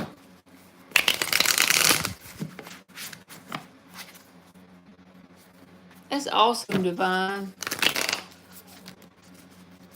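A deck of tarot cards is shuffled in two brisk riffling bursts, close and crisp, separated by quiet gaps, with someone speaking briefly between them.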